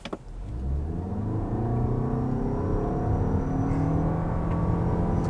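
A 2026 Toyota RAV4 XSE Prime plug-in hybrid revs up and pulls hard in sport mode from 0 to 60, a steady grainy roar climbing in pitch as it accelerates, heard from inside.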